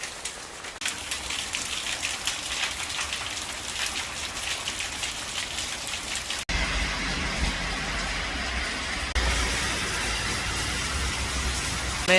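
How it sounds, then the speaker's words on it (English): Heavy rain pounds steadily on a Sprinter 144 wheelbase van, a dense, unbroken hiss of drops close around, with a brief dropout midway before the downpour carries on just as loud. "Man, we're not talking light rain here."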